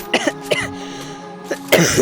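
A person coughs several times in short bursts, close and loud, over a steady background tone while playing a mobile game.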